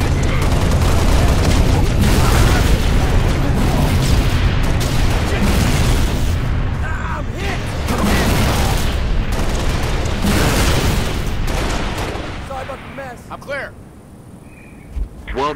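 Heavy artillery fire in the Halo video game booms again and again amid a dense battlefield roar, loud and sustained before thinning out near the end, with voices speaking over the fighting.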